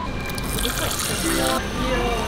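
Hot water trickles and sloshes into a cup at a conveyor-belt sushi restaurant, a steady close pour with restaurant chatter around it.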